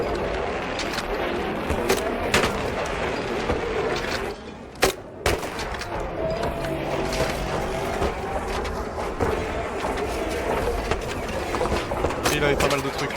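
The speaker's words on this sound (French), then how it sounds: "Ils sont sur la colline, ils nous tirent." Enemies on a hill fire on the player in the video game Arc Raiders, with scattered gunshot cracks and one sharp loud report amid constant battle noise, while a voice talks over the action.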